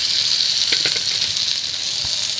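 Meat fries in a pan with ground chili powder for meat ghugni, making a loud, steady, hissing sizzle with a few soft knocks near the middle.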